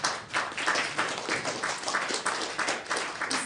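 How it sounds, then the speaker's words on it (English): A small audience at a film Q&A for a short film applauds a co-writer, the clapping steady and moderately close, filling the room evenly for a few seconds with no talk over it. "Round of applause for Ian as well, everybody."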